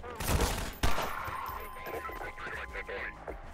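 Gunfire in the Half-Life 2 VR mod: a loud burst of shots at the start and a sharp blast just before one second, then quieter game sounds under talk.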